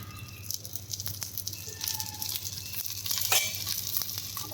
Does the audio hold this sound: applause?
no